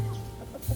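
A brief, close cluck from a wet chicken in Nairobi, Kenya, short and throaty, with a slightly louder burst at the end.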